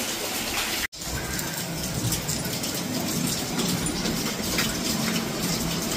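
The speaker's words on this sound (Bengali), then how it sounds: "সুন্দর বৃষ্টি।" Rain falls steadily in a dense, even hiss of drops on surfaces, close and continuous apart from a momentary dropout near the start.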